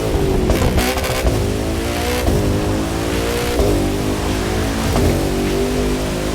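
Koenigsegg Jesko in the racing video game The Crew 2, its engine roaring loud and steady, with pitch climbing through the revs and dropping at gear shifts every second or so.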